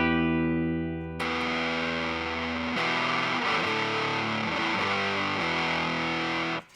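An electric guitar runs through an Electro-Harmonix Big Muff Op Amp fuzz pedal, a sustained note giving way to thick, saturated fuzz chords that shift several times, loud and alone.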